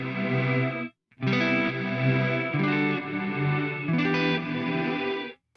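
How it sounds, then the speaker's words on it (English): An electric guitar runs through an Eventide H9 pedal set to a non-linear ramp-up reverb, sustained chords swelling and blooming with a short break near the start, loud and alone. "you get that classic like non-linear ramp up reverb in there"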